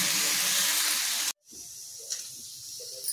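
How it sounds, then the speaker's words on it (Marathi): A pressure cooker holding moong dal vents steam in a loud, steady hiss that cuts off abruptly, leaving a softer background hiss with a few small bumps. "कुकरची पण शिट्टी झाली आहे"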